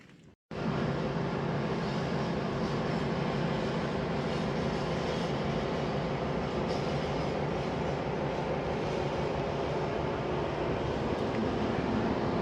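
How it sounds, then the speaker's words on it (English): A diesel train rolls through rain on the way to Novo Mesto, Slovenia, heard from inside as a steady, continuous rumble and hum that starts abruptly after a brief quiet moment. "Nice and rainy, making for an atmospheric ride in this nice diesel train."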